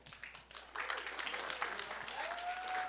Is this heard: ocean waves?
no